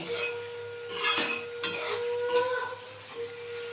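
A spoon stirs and scrapes turnip and egg curry masala in a frying pan, with soft sizzling beneath repeated clinks and scrapes against the metal, close and moderately quiet.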